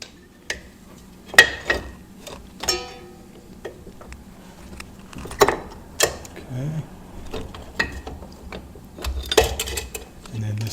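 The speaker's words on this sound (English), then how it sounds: "We'll have to also pull these springs off down here, and there's another spring up here." Metal springs being pulled off rear drum brake shoes, with scattered sharp metallic clanks, ticks and scrapes of tools against brake hardware, close up and intermittent, over a low steady background hum.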